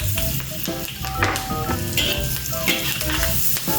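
Curry leaves and chili frying in melted margarine, a steady close sizzle and crackle with the clatter of a stirring utensil against the pan throughout, no talking.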